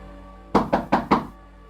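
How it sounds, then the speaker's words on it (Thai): Four firm, evenly spaced knocks on a door, close and clear against near-silence, used as a sound effect in a ghost story. "ผมได้ยินเสียงเคาะประตูเบาๆ"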